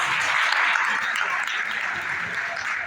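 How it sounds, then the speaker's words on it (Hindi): Loud applause fills a school gathering at an inter college, a dense steady wash of clapping from many hands that holds evenly throughout. "इस काम के लिए एक जोरदार ताली हो जाए।"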